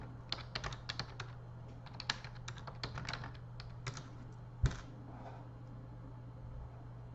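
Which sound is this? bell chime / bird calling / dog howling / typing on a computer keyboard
typing on a computer keyboard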